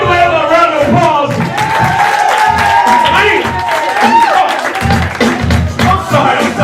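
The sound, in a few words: applause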